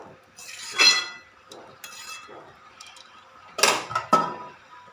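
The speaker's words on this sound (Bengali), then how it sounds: "এবার লবণটাকেও লাউয়ের সাথে খুব ভালো করে মিশিয়ে নেব" Bottle gourd being stirred with spices and salt in a pan, a spoon clinking and scraping against metal in uneven bursts with short pauses between strokes.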